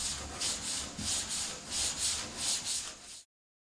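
Close, rhythmic strokes of a sanding block over primer on a car door, about eight back-and-forth rubs before stopping abruptly.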